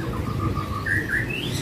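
Caged birds call inside a bird warehouse at Pramuka bird market in East Jakarta, with a cooing dove-like murmur beneath rising chirps and whistled song, fairly close and continuous.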